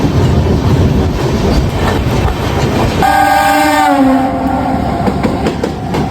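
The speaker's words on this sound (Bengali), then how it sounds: "লোকাল এত জোরে যাচ্ছে দেখে মনে হচ্ছে এক্সপ্রেস যাচ্ছে" A local train near Howrah speeds past with a continuous loud rumble and rattle of carriages, and its horn blares for about a second midway through.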